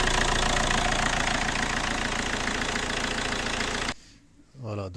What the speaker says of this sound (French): nous avons à l'accélération une sortie d'air en pression au niveau de l'échangeur et du tuyau de surpression de turbo